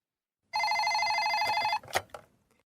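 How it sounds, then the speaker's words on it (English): An electronic telephone ring sounds for an incoming call, one steady bright tone lasting about a second, then a couple of short clicks and knocks as the handset is picked up, close and clear. "Tony Hops is phoning Kelly at Argonaut Mediterranean Cruises to make a complaint"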